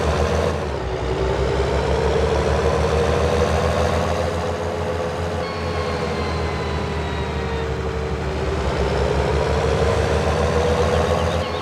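A tractor engine idling in Farming Simulator 19: a steady, low, droning rumble with an even hum that holds constant throughout, no talk over it.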